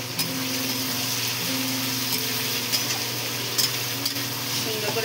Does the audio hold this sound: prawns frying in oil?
yes